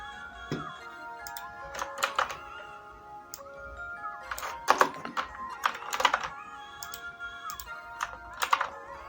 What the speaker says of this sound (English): Let me just type something as an example.